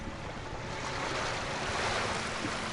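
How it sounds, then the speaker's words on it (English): Loud water and waves in the game Arcanum, a continuous broadband rushing surf that fills the whole clip evenly and close, with no pauses or voices. "Why is the water so loud?"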